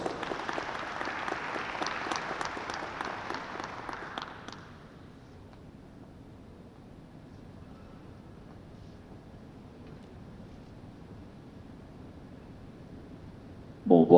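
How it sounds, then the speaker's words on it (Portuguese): An audience at a 2018 congress in Belo Horizonte applauds the Minister of Culture, Sérgio Sá Leitão, with steady hall-wide clapping for about four seconds that then drops to quiet room tone. "que recebe o carinho e os aplausos de todos"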